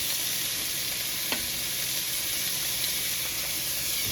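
Garlic and vegetables sautéing in olive oil in a pan, a loud, continuous sizzle and hiss with occasional faint stirring scrapes, heard close up with no talking.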